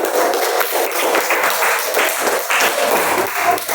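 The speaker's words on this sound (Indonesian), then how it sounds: "Tepuk tangan dari kelompok" Steady, full applause from an audience cheering group 3 at a teacher-training presentation, a dense wash of many hands clapping continuously with no break and no voices.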